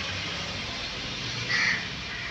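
A crow caws once, a short harsh call rising over steady outdoor background noise near a building by a temple festival.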